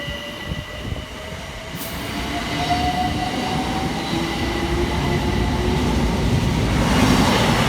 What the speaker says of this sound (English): kicking us off will be 378145 with the 1240 London Overground service of West Croydon through to Highbury and Islington